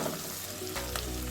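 Green chilies and sliced onions sauté in hot oil in a pan, giving a steady, close, continuous sizzle and crackle with no voices.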